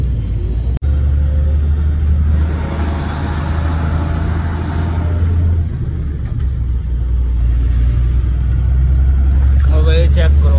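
A truck drives along Sitapur Road, heard from inside the cab as a loud, steady low engine drone and road rumble with a sharp knock early on and a voice speaking briefly.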